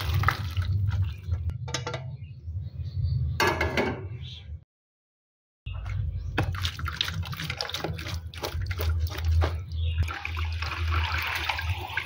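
Boiled food being rinsed under cold running water, a steady splashing gush that fills most of the clip and stops briefly midway before resuming.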